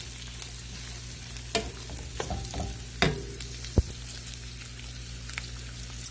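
Already browned ground pork stir-fried in a pan, softly sizzling close by while a utensil knocks and scrapes the pan in scattered, irregular strokes.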